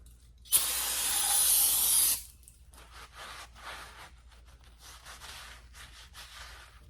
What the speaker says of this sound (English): I'm going to degrease this area.